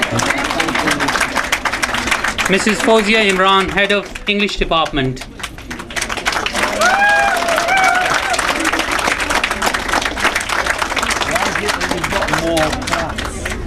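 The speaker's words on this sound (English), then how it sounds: "Just carry on clapping." Audience applause at an award ceremony for tutors and staff, continuous crowd clapping with crisp individual claps that stays loud throughout, while an announcer speaks over it partway through.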